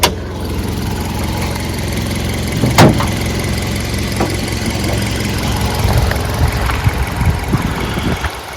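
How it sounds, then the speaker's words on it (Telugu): Close, steady idle of a Maruti Swift Dzire VXi petrol engine with the bonnet open, an even mid-low hum with a few faint clicks and knocks, no voices. "ఇప్పుడు ఇంజన్ ఆన్లోనే ఉంది, మీరు ఇంజన్ సౌండ్ వినొచ్చు"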